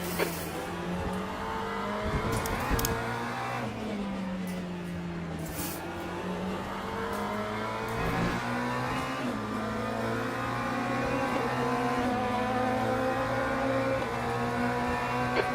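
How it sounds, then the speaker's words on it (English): Race cars in the Le Mans Ultimate sim racing game roar past during a testing session, with steady engine drone, rising and falling revs and gear changes, continuous and fairly loud, no talking. "Okay, David, there's a faster car approaching."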